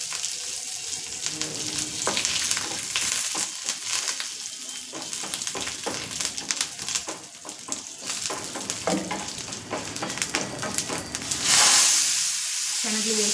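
Curry leaves and small dried red chillies fry in hot oil, giving a continuous crackling sizzle with bursts of spattering and stirring scrapes, close and fairly loud throughout.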